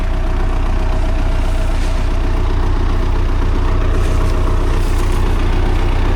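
An MTZ tractor engine idles steadily and loud at close range during spring ploughing on a farm, a dense continuous low rumble with no breaks and no talk.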